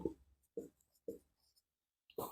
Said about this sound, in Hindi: तो यहां पे अपन ऐसे लिख सकते हैं